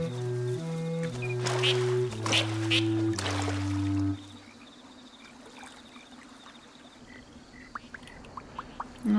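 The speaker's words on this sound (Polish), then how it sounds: "O, tu jakie kaczyszki." Ducks call faintly at a nature reserve in the video game Alba: A Wildlife Adventure, a few soft quacks following a melodic music passage that fades into quiet outdoor ambience with trickling water.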